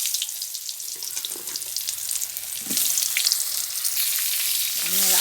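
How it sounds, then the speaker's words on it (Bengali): Sliced pointed gourd frying in hot oil left over from frying rohu fish, a loud, close crackling sizzle with sharp spattering pops, continuous throughout and without any voices. "এবার ওই তেলের মধ্যে পটলগুলো ভেজে নেব"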